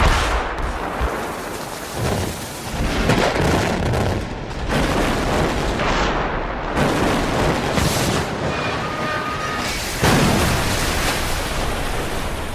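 A bridge being brought down by explosive demolition produces a continuous, loud, broadband roar and rumble with heavy crashing bursts throughout.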